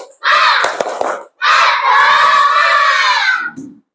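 Primary schoolchildren in a classroom at SD N Malahpar, Rumpin, Bogor, doing a rousing spirit chant, two loud unison shouted bursts from the whole group with a few sharp claps under the first, then a brief quiet tail.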